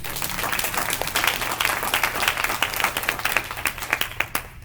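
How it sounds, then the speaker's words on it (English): A trichology conference audience breaks into applause, many hands clapping in a steady crowded patter that swells and holds, then begins to thin at the end. "Can you give yourself a round of applause?"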